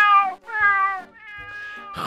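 A cat meows three times in a row, drawn-out and tonal, then a brief rustle at the end, close and clear with no speech.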